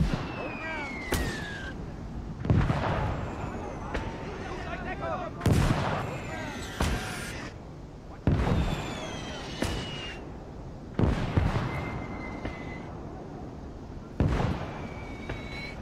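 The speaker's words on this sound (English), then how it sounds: "Enemy machine gun!" Enemy machine gun fire in the World War II video game Gates of Hell, heard as repeated bursts of loud gunfire and blasts spaced every couple of seconds, with whistling tones and battle noise between them.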